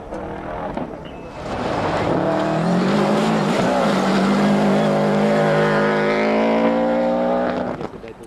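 A Metro-powered Peugeot rally car races along a forest stage, its engine note loud and close, rising and falling through gear changes as it passes over several seconds.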